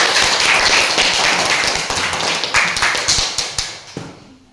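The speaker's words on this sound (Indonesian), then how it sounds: "Ya, kita kasih aplaus untuk kelompok 3." A classroom group clapping for a student team, a dense burst of applause that thins into scattered, separate claps before stopping.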